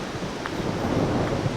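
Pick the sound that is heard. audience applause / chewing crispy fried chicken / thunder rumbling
thunder rumbling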